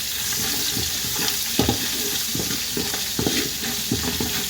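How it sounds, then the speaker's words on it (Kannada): Curry leaves and green chillies sizzle steadily in hot oil in a pan, with several sharp bursts of stirring and spatula scrapes breaking through the continuous frying hiss. "ಇದು ಚೆನ್ನಾಗಿ ಕರಿಬೇವು ಹಸಿಮೆಣಸಿನ್ಕಾಯಿ ಫ್ರೈ ಆದ ತಕ್ಷಣವೇ ಅರಿಶಿನ ಹಾಕಬೇಕು."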